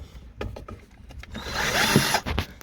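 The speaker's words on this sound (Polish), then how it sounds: "Ja sobie to wywiercę wkrętarką, ponieważ to nie trzeba jakiejś dużej siły." A cordless drill driver bores a small pilot hole for a screw to mount a Skoda parking ticket clip, giving a close whirring burst that builds and holds for about a second amid handling clicks.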